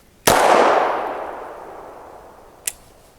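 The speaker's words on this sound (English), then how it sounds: "we start with the accuracy test on this pistol at a defensive range, just like 10 yards" A Canik Mete SFT pistol fires at a range target about 10 yards away: one sharp, loud shot with a long decaying ring, then a second, much fainter crack near the end.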